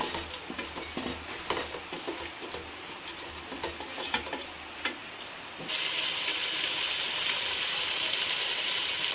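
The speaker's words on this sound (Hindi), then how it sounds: "लोबिया शामिल करके इसको थोड़ा सा भुनेंगे ताकि इसमें मसाले का फ्लेवर आ जाए" Black-eyed peas (lobia) roast with masala in hot oil, giving a soft, steady sizzle with faint stirring scrapes that jumps to a louder, brighter hiss partway through.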